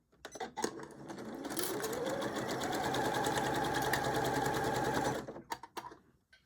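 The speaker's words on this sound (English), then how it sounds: "here we're going to start to sew our ruffle down along the side seam" A sewing machine sews a ruffle down along a side seam in one steady, close whirring run of about four seconds, with a few clicks and handling taps before and after.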